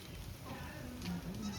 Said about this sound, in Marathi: आता तुम्ही बघा शेळ्या